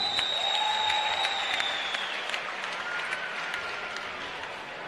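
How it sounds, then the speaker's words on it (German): A crowd claps steadily at a women's boxing event before a WBC title fight, the applause fading slightly over a few seconds, with a faint tone and whistles mixed in. "bitte einen großen Applaus"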